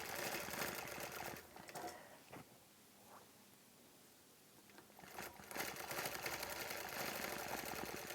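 Sewing machine stitching round circles while free-motion quilting an antique chain quilt, fast steady whirring bursts near the mic, pausing briefly in the middle before resuming.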